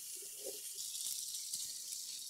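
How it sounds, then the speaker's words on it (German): Cold water runs from a kitchen tap into a pot, a steady hiss of flowing water with a soft splash near the start, fairly quiet and close, with no talking. "jetzt, wie gesagt, haben wir aufgefüllt mit kaltem Wasser"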